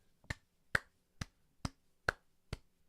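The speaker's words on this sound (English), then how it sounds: "One single clap." Six sharp, evenly spaced claps or snaps ring out about half a second apart, each a crisp broadband crack that stands alone in a quiet room with no talking.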